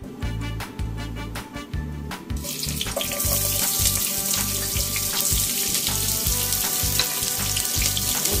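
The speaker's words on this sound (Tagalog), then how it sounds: "igisa na muna natin yung ating chicken" Chicken sautéing in a pan for chicken biryani, a steady close sizzle that jumps to a louder, bright hiss after about three seconds with rhythmic low clatter underneath, no talking.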